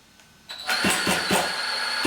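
An FID electric onboard starter cranks a Zenoah G320 two-stroke engine, starting with a rising whine and then a fast, rhythmic mechanical chugging that stays loud and close, with no voices.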